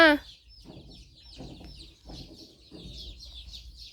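Chicken clucking at a household yard, in four short, close bursts spaced about half a second apart, with thin high bird chirps running faintly over the top.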